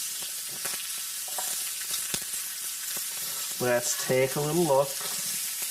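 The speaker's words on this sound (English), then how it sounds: "I'm gonna turn it quarter turn so I get some nice good sear" Steak sears in a hot pan with a steady frying sizzle throughout, fairly close, while someone speaks briefly over it.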